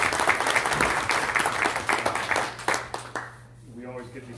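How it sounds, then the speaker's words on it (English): Loud crowd applause at a North Carolina APCO chapter meeting fills the room for about three seconds, then thins out and fades as a voice briefly begins speaking. "everybody should give them a round of applause just for standing up for that."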